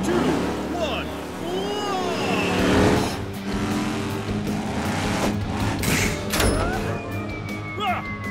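A cartoon monster truck launches with a loud, revving engine roar, mixed with whooshes and sound effects. Excited voices talk over the racket.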